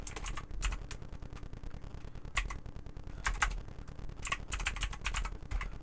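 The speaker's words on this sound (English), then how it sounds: "I'll just type it in there if it works right." Continuous typing on a computer keyboard, rapid close-up clicking in uneven bursts with brief pauses, heard alone without talk.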